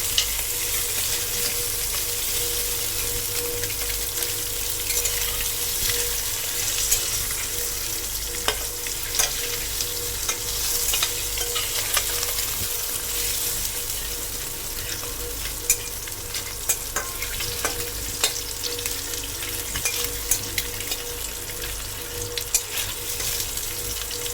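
Eggs sizzle and crackle in a hot pan while being fried crisp, a steady, fairly quiet hiss with scattered pops and no voices.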